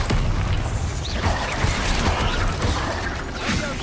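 The Confringo blasting spell in Hogwarts Legacy erupts amid crashing, rumbling bursts and creaking mechanical clatter, loud and continuous, with combat effects layered throughout.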